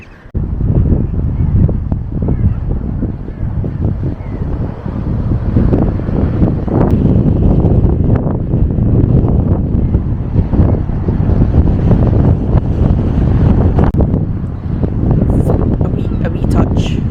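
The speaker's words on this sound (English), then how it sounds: "A wee touch on the blustery side this morning." Blustery wind buffets the microphone on an exposed coastal walk in East Lothian, Scotland, a loud, continuous low roar with gusts rising and falling and no break, while voices can be heard under the rumble.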